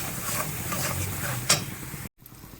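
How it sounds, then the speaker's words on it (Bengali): A paneer curry is stirred in a pan after coconut powder goes in, with soft scraping and a faint sizzle, one sharper clink partway through, then a brief cut to near silence. "নারকেল পাউডারটা এখন দিয়ে দেবো। দিয়ে এটাকেও ভালো করে মেশাবো।"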